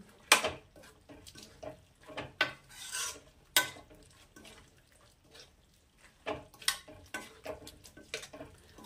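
Chana masala stirred in a pan after a sprinkle of atta flour: irregular scrapes and clinks of a spoon against metal, close and moderately loud, in uneven bursts with brief pauses between.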